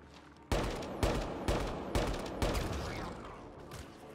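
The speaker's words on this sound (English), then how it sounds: "You are shooting." Gunfire in the PC video game Mass Effect Andromeda: five loud, evenly spaced shots about half a second apart, each with a booming tail, then fading echo.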